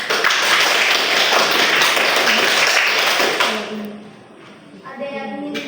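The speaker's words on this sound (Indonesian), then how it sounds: "kita berikan aplaus untuk kelompok 3" A classroom group applauds a student team after a chemistry presentation, with dense, loud clapping for about three seconds that fades before a voice begins speaking.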